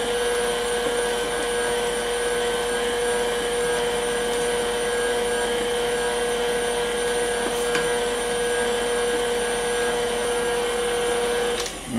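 An electric mixer beats mashed banana into banana bread batter in a bowl, a loud steady motor whine holding an even pitch throughout before cutting off at the end.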